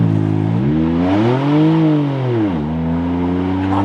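An Infiniti Q50 with a downpipe revs up and accelerates hard nearby, the engine note climbing, peaking, dipping, then rising again in a loud, continuous roar.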